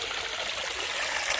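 Continuous rushing of river water flowing over stones, a steady close wash of burbling and splashing with no pauses or voices.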